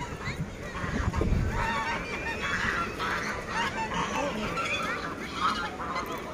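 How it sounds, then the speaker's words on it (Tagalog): Waterfowl in a park honking and quacking noisily at fairly close range, repeated calls from several birds over a busy outdoor background. "Saba kayong pato."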